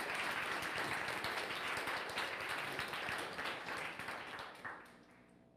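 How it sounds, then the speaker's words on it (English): A conference audience applauds Michelle Rempel as she appears remotely, a steady wash of clapping hands at moderate level that fades near the end. "round of applause for Michelle."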